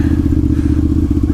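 A motorcycle being ridden, a loud, steady, close engine rumble with a rapid throbbing beat and some wind noise, no talk over it.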